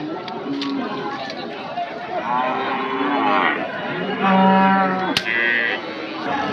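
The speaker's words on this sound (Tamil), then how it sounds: "நாம் இன்றைக்கி அந்தியூர் மாட்டு சந்தைக்கு வந்திருக்கோம்" Cattle at the Anthiyur cattle market, a livestock fair: several long moos, some near and loud, others farther off, sound under steady crowd chatter and nearby talking.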